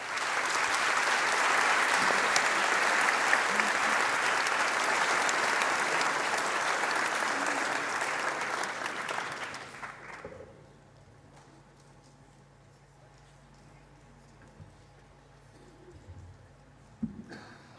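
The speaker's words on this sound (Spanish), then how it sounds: "Dejo con ustedes a Gilles Lipovetsky, para quien pido un cálido aplauso." A lecture audience in Valparaíso gives warm applause for Gilles Lipovetsky. Dense clapping lasts about ten seconds, then fades to a quiet room with faint sounds.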